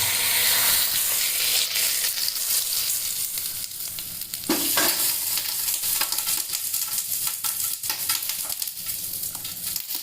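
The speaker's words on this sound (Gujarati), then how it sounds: "હવે આપણે આ વઘારને આપણી ચટણીની ઉપર આ રીતે ફેલાવીને નાખી દઈશું" Loud crackling sizzle as hot tempering oil is poured over raw mango and garlic chutney, spitting and hissing continuously, easing slightly while stirring sounds come through.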